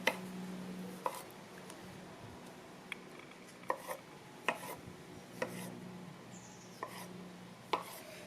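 A knife slices piccolino tomatoes into halves and quarters on a board, giving about eight sharp, fairly quiet knocks at an uneven pace with short pauses between cuts.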